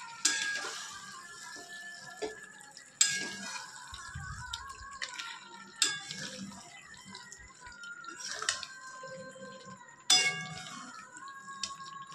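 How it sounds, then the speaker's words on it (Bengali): Spoon stirring mutton curry in a pot with the lid off, sizzling oil under repeated sharp metallic clinks and scrapes at irregular intervals, close and fairly quiet. "এবার ঢাকা খুলে আরেকবার নাড়াচাড়া করবো।"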